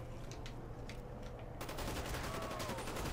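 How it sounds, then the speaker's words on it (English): Rapid gunfire bursts from the zombies mode of Call of Duty on the Kino der Toten map, heard fairly faint as repeated rattling volleys with no speech over them. "I guess I gotta start shooting."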